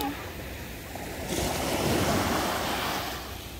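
Ocean waves at Haeundae beach in Busan at night, a steady wash of surf that swells louder midway as a wave breaks and rolls in, with wind noise over the microphone and no voices.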